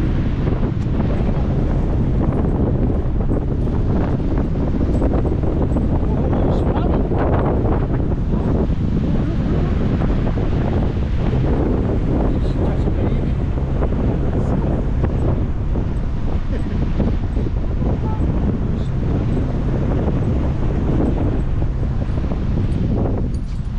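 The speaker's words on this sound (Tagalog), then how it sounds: "Oh shit, windy." Strong wind buffets the microphone at the seaside, a loud continuous roar with gusts over breaking waves, steady throughout with no clear talk.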